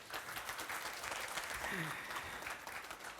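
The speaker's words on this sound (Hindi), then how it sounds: "अपने भारतवर्ष के लिए तालियां बजा सकते हैं आप" Audience applause at a televised media event in India, a steady, even patter of many hands clapping, moderately distant and sustained throughout.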